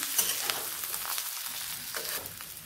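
Stuffed brinjal coated in masala being sautéed in a pan, with a continuous sizzle and soft scraping strokes of a spatula, close and alone.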